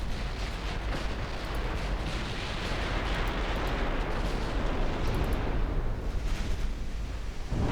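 Battleship main guns fire in the naval battle game Ultimate Admiral Dreadnoughts, producing a dense, continuous rumbling barrage of overlapping booms that stays loud and steady throughout, with no talk.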